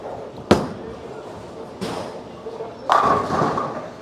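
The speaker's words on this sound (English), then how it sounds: "it still got down lane, went through the pins and wrapped a pretty violent 10 pin" Bowling ball crashing through pins, a reactive Motiv Ripcord Velocity hooking into the pocket and sending the 10 pin flying; three sharp impacts land in about four seconds, the last followed by a rattling clatter of pins.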